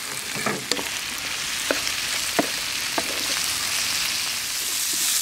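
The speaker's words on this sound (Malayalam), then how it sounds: "കല്ലുരുക്കിയും ചേർക്കുക, നന്നായിട്ട് വാട്ടിയെടുക്കുക" Tomato, onion, tamarind and kallurukki sauté in a pan with a continuous close hiss and crackle, broken by scattered sharp scrapes and taps of a stirring utensil.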